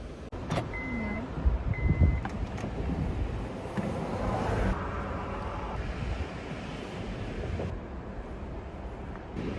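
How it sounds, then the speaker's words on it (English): Wind gusts and rumbles outside, with a beep and a window motor whirring early on, then a steady low roar of blowing air. "It's too windy to cut things from the outside."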